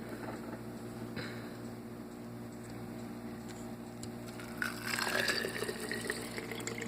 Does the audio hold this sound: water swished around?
yes